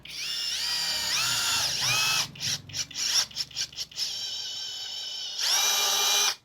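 A Moketa cordless drill driver runs at speed 2 with a loud, high whine that holds steady, then breaks into a string of quick stop-start bursts before spinning up smoothly again and cutting off.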